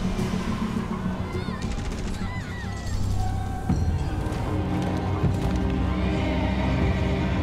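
Horses neigh and whinny repeatedly over galloping hooves, crashes and tense in-game music during a chaotic scene in The Walking Dead: A New Frontier, loud and close throughout.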